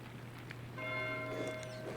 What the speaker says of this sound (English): Why is Matthew ringing the bell?